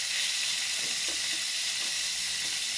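Steady, close sizzling of food frying in hot oil while making adobo, a continuous bright hiss with no talking.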